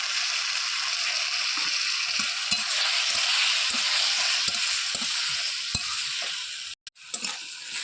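Ginger paste and cumin powder mixed in water are sautéed in a pan for a mixed vegetable ghonto, giving a steady loud sizzle with repeated spatula scrapes and taps, then a brief break near the end.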